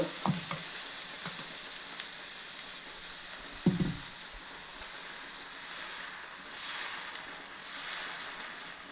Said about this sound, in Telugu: పాని వేడెక్కింది దోశ పోసుకుంటున్నాను